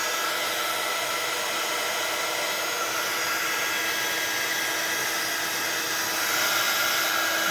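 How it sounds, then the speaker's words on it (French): A heat gun blowing hot air to melt embossing powder on chipboard, a loud continuous whooshing drone that stays steady and close throughout. "le temps que je chauffe avec le heat gun"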